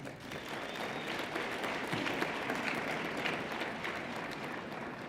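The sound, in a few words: audience applause at graduation ceremony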